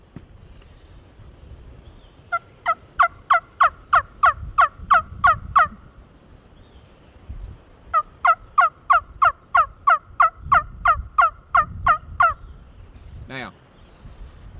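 Wing Wood wingbone turkey call producing two long runs of sharp, evenly spaced yelps, about ten notes each, loud and close over low background rumble, with a brief higher squeal near the end.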